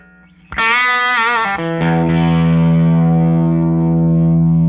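An electric guitar rings through a Colby amp with the low mid switch up. A bright chord strikes loud and clear, shifts once, then sustains with a warm, thick tone that slowly decays.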